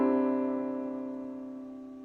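A sustained piano chord with an added ninth, the ninth dropped an octave into a close cluster, struck once and left to ring and slowly decay, alone with no talking.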